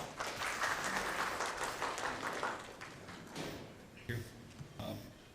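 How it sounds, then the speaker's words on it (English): A large audience at a policy and technology conference applauds steadily and loudly for several seconds before the clapping thins out, with a few scattered claps and faint murmuring at the end. "Please everyone with a big round of applause."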